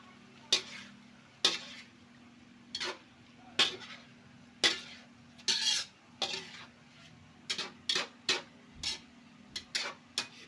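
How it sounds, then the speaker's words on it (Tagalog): A spoon stirs a creamy tofu and hotdog dish in a pan, giving repeated scraping clinks at an irregular pace over a low steady hum. "Then haluin ng mabuti."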